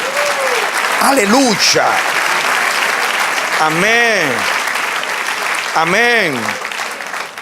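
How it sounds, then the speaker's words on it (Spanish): A church congregation claps steadily for several seconds, the dense applause running under voices calling out in worship. "Dale un aplauso al Señor."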